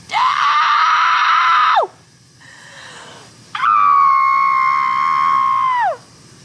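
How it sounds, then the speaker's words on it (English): A person screams in frustration: two long, loud, sustained screams, the first about two seconds and the second longer, separated by a quieter breathy pause. "I just want to scream."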